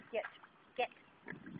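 A pig oinks in short snorting grunts, two quick bursts close by followed by a rougher, lower stretch of snuffling, faint and low-level overall.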